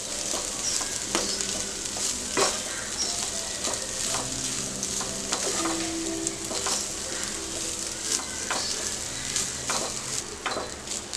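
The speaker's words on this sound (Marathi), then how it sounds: "परतून घेऊया चांगलं." Basmati rice is stir-fried in a hot pan, a steady close sizzle with the scrape and clack of stirring recurring throughout and no talk.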